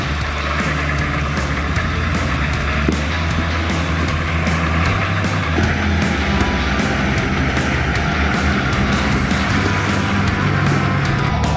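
A Hummer H1 climbs an off-camber hill on an offroad trail event, its engine a loud, steady, close drone that does not let up.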